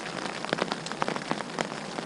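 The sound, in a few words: rain falling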